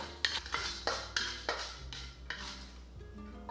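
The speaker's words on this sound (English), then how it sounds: "Stir fry until aromatic 1 minute" Red and green Sichuan peppercorns are stir-fried over low heat in a wok. A spatula scrapes and clinks against the metal in a steady series of close strikes, with a faint sizzle underneath and no voices.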